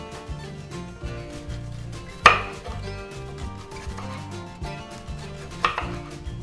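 Raw red onion being chopped for a burger, a close knife on a board with quick rhythmic cuts and two louder knocks standing out, no talking over it.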